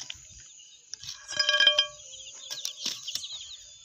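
A brooding hen kept at night over a clutch with chicks gives a short run of soft, close clucks near the middle, fading to quieter rustling and scattered faint noises.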